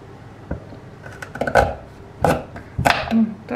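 A small knife chops through tough horseradish root on a board in a few uneven, close strokes, with scraping and light knocks between cuts.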